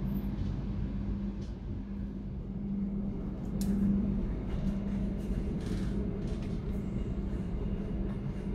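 A KRL Commuter Line electric train in Indonesia rumbles steadily past with a low continuous roar and a faint hum, growing slightly louder midway, with no voices.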